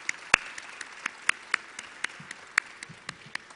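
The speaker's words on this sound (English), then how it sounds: "Let's give him a round of applause, Mr. Rick Cotton." Sparse clapping from a small audience at a government press briefing held in a new airport arrivals and departure terminal, with a handful of sharp, separate claps scattered irregularly over a few seconds and no sustained ovation.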